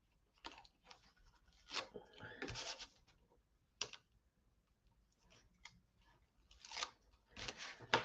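Scissors snip through paper while an envelope is being made, giving a few short, sharp crisp cuts close by and separated by quiet pauses.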